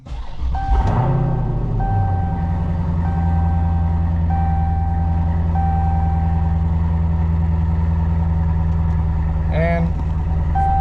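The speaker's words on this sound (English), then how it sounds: "Okay, we're gonna fire it up." A car with its check engine light on cranks and catches, then settles into a steady, loud idle that hums on close by without change for the rest of the stretch.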